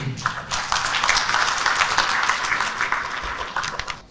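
Audience at a GCCI awards ceremony applauding, a dense burst of clapping that rises quickly, holds steady for several seconds and tapers off at the end.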